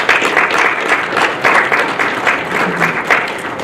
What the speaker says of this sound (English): If you'd all give yourselves a round of applause